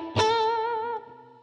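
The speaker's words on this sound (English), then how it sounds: "This is sort of your old 60s Fender style reverb." A single electric guitar note or chord rings out with a bright, wet 1960s Fender-style spring reverb tail on a Line 6 Helix that shimmers and fades after about a second.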